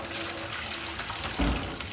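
Tap water pours steadily into a rabbit's litter tray holding a little disinfectant, a continuous close hiss and splash that swells briefly near the end.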